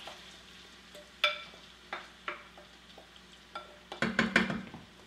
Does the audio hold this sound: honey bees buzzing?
no